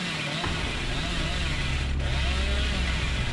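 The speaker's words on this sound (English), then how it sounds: "So we'll chainsaw around a little" Hillbilly's chainsaw from the game Dead by Daylight revs in a steady, loud mechanical drone that runs the full length, with a brief dip near the middle and other game noise beneath.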